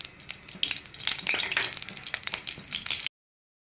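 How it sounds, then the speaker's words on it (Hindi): Oil poured into a hot kadhai for paneer korma, giving a quick burst of crackling sizzle with rattling pops close by that stops abruptly before the end. "अब हम कढ़ाई गरम करेंगे और उसके अंदर ये गरम हो गया है, अब इसमें मैं ऑयल डालूँगी"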